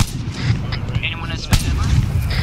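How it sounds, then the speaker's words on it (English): Suppressing gunfire in the Arma 3 military game, sparse single rounds fired every few seconds: sharp booming reports over a dense rumbling battle background, with a loud shot at mid-clip and talk mixed in. "start suppressing. Just one round every few seconds."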